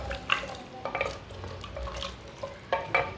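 Goat meat and water being stirred in a clay pot for a Bakra Eid dish produce soft sloshing with scattered light scrapes and clinks, close and fairly quiet.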